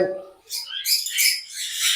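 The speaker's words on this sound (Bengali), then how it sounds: "এটা কগাটেল এটা ডিএনএ করা লাভবাট আছে" Cockatiels and lovebirds at a bird farm give short, bright chirps and squawks in a quick burst, fairly close and alone without talk.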